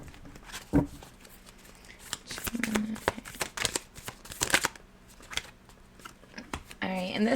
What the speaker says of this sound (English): Alright, this will be our last shuffle.